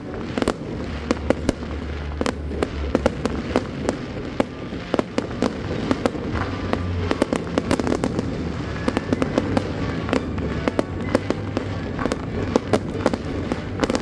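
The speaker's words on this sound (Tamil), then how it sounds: "ஒரு 10-15 மினிட்ஸ் இருக்கும் கண்டினியூஸாக ஃபயர் ஒர்க்ஸ் இருந்துச்சு" Continuous fireworks at an Aveiro Christmas celebration, with dense sharp bangs and crackles popping steadily over a low rumbling music bed for the whole stretch, no talk.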